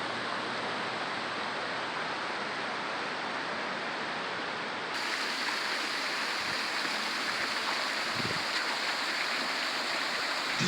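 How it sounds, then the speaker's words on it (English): Small hot spring waterfalls beside a clean river at Kirkham hot springs in Idaho pour in a steady, dense broadband rush, close and continuous, growing slightly brighter and fuller midway through with no voices. "Coming near the river, I can see small hot spring waterfalls."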